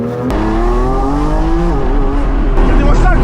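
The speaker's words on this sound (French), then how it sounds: "Un V12 c'est tellement excitant." A Lamborghini Revuelto V12, 1015 hp, revs while driving, a loud, close engine roar with rising and falling pitch, continuous throughout with a brief crackle near the end.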